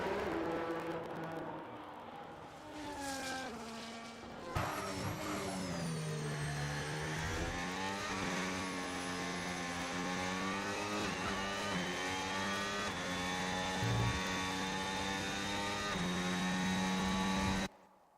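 F1 race cars in a racing video game at the Australia Grand Prix, a loud onboard engine whine rising and falling through gear changes and corners, sustained throughout with no talking.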